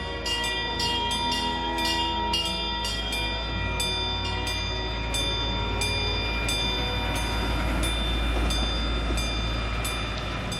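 A zoo ride train in Albuquerque rumbles steadily along with a continuous hum, while a bell rings in a repeating pattern over it.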